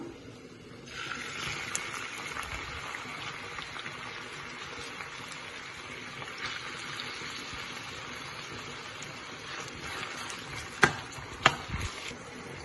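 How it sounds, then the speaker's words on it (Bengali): Onions dropped into hot oil for a prawn pepper curry burst into a continuous loud hissing sizzle that holds steady, with a couple of sharp clicks near the end and no talking. "আমি তেল দিলাম এটা একটু গরম হোক এখন পেঁয়াজ দিলাম"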